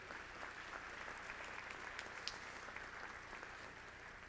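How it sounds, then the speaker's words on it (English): Faint, distant applause from an audience at a medical school graduation ceremony, a soft continuous patter of many hands clapping in a large hall. "Give me a round of applause for the truth"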